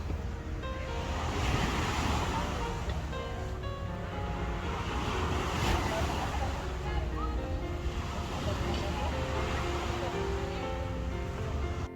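Waves wash steadily onto a beach in Monaco on the French Riviera, a continuous rolling surf with gusts of wind buffeting the microphone throughout.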